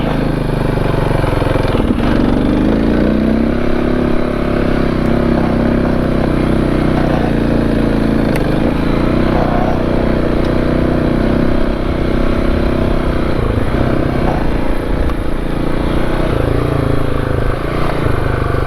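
A motorcycle engine drones steadily and loudly throughout on an off-road trail, its pitch rising and falling slightly as the bike rides along, with no voices.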